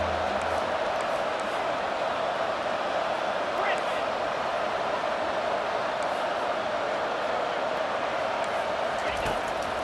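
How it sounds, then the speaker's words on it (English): A stadium crowd in EA Sports College Football 25 keeps up a dense, steady roar of cheering throughout a college football game, loud and unbroken from start to finish. "3rd down and the crowd really getting into it."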